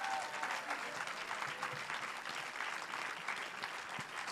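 An audience applauds at a short film festival award ceremony, with dense, sustained clapping that is quite faint and distant, and voices murmur beneath it.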